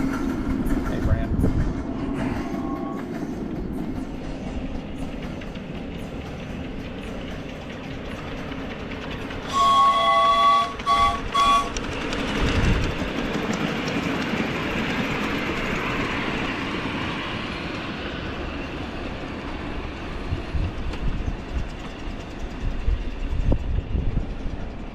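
An RMI locomotive train rumbles past at steady volume for a long stretch, with a brief burst of higher tones midway and people talking over it.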